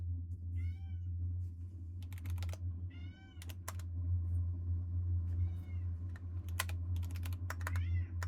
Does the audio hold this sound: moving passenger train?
no